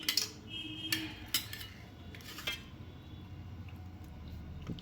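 A spoon serving dal, a lentil curry, onto a plate: a few light metallic clinks and scrapes near the start, then quiet with only faint room tone and no talking.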